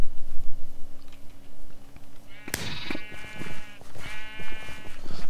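Sheep in the Minecraft video game give several short, wavering bleats in quick succession, after a low background hum, with faint clicks and game sounds around them.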